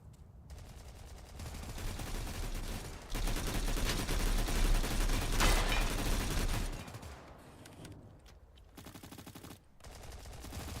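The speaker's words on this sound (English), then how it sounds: "Oh, thank God I've got my favorite gun, the RPL, back." Sustained automatic fire from an RPL light machine gun in a video game, loud dense bursts running for most of the stretch, easing off near the end with a few separate shots.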